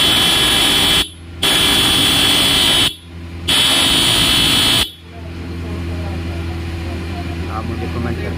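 Horn of a 2023 TVS Apache RR 310 E20 motorcycle with the ignition on, sounding in three loud, steady electric blasts separated by short gaps, then giving way to a lower, softer background rumble.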